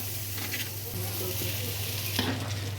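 Egg and cooked rice are stir-fried together in a hot pan for fried rice, with a steady sizzle broken by scraping, clinking strokes of a spatula as the mixture is tossed.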